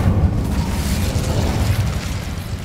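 An Incendio fire spell is cast in the video game Hogwarts Legacy, giving a loud, sustained rumbling roar of flame that stays dense and steady throughout, with no talking.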